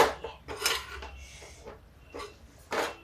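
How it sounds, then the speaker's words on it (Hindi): Metal spoon scraping and clinking in a pan while boiled potatoes are stirred into spiced pointed gourd, several close, light scrapes and taps with quiet pauses between. "ये अब इसको भी थोड़ा मसाले में मिक्स करते हैं।"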